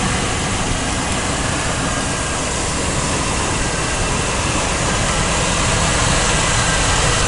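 A 1992 GMC 1500 with a 4.3 liter engine idles with a misfire, a loud, dense, steady engine roar running without pause and no voices over it.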